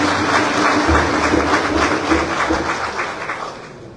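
Audience clapping for President Boakai at an event launching Liberia's IIPS digital payment system; a dense, sustained crowd applause that tapers off toward the end.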